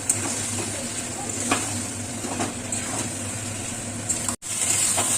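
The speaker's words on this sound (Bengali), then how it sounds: "এই কিছুক্ষণ এটাকে আমি কষাতে থাকবো।" Potato curry (aloo dum) with spices, green chilli and coriander leaves sautés in a pan, giving a steady close sizzling hiss with faint stirring scrapes.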